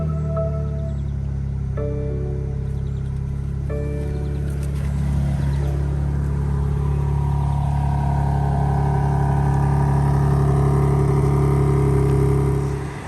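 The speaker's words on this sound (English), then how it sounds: "put your foot on the brake and hit the red start stop button." A 2023 BMW M4 Competition Convertible (G83) with the 3-liter twin-turbo straight-six S58 cranks and fires after a few chimes, then settles into a loud, steady, rumbling idle.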